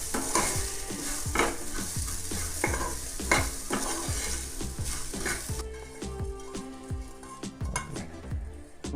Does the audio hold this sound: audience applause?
no